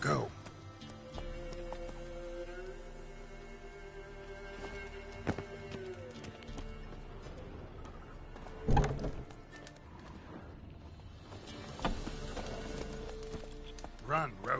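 Geralt's horse Roach galloping in The Witcher 3: steady clip-clop hoofbeats run under game music and a talking voice, with a louder thump near the middle and an occasional whinny.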